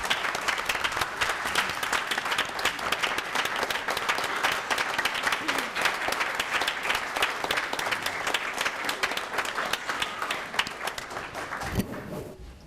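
A school board meeting audience applauds second graders with sustained, dense clapping that stays loud for several seconds before tapering off with some movement at the end.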